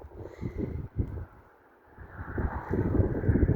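Strong, cold winter blizzard wind buffets and rumbles across the microphone in gusts, dropping briefly before surging back, with no voices.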